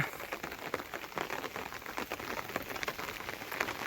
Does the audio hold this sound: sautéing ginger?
no